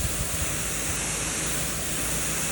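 Water sprays from a hose line up on a house roof onto plants below, a loud, steady hiss of spray that runs without a break, close to the microphone.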